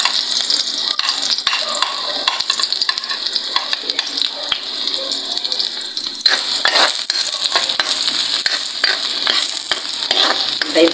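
Onion and garlic fry for pakbet in a loud, continuous close sizzle, with frequent scraping stir strokes that grow denser in the second half.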